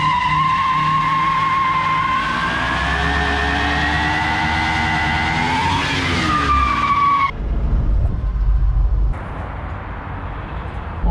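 A 1978 Ford F100 pickup truck does a burnout, its engine roaring loud and close with a long rising tire squeal that cuts off abruptly, then fades to a lower rumble.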